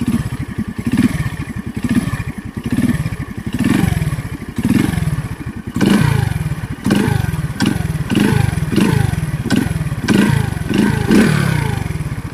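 A motorcycle engine idles with a rough, clattering chug, then revs up and down in repeated short throttle blips, loud and close.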